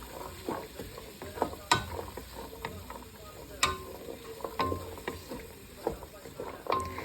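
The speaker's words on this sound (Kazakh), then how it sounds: "осының үстіне жаңағы пиязымыз бен сәбізімізді қосамыз дағы араластырып, жақсылап тұрып қуырып алатын боламыз" Meat sizzles quietly in oil in a pan with onions and carrots while a utensil stirs it, giving a run of irregular scraping knocks over a soft frying hiss.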